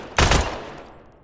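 A single sharp burst of M4 rifle fire in the Badlanders video game, loud and close, a rapid cluster of shots lasting a fraction of a second before a fading echo.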